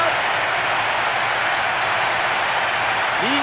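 Steady, dense crowd roar with applause-like texture fills the whole stretch at a constant loud level, like a stadium of cheering fans, in the football video game Winning Eleven 2010 after a goal.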